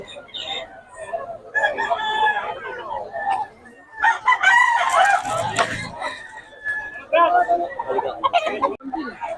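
Roosters crow repeatedly amid clucking chickens in Bocaue, Philippines, with people talking nearby over the busy flock.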